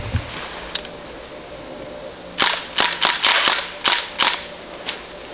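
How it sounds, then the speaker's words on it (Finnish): Crossman air rifle fired in a rapid string of about eight sharp, loud cracks bunched between two and five seconds, following a quiet stretch with a few faint clicks. "Eli Crossmanissa tää on kivääri."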